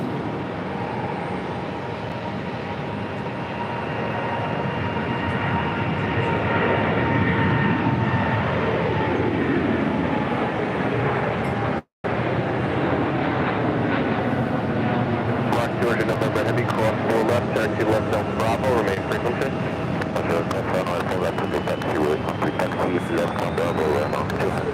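A Boeing 787 Dreamliner jet at JFK airport roars steadily at a distance, rising and falling in a long continuous rumble, with a brief dropout midway and crackling noise afterward.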